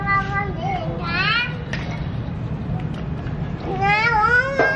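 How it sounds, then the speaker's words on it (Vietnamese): A cat meows several times with rising and falling cries, close by, over children talking and playing around it. "Ô con mèo."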